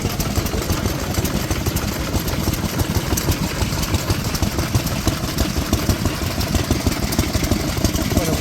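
An old 3 horsepower stationary engine driving a large pump at a historic machinery rally chugs continuously in a dense, rapid, even beat, loud and close with outdoor noise around it.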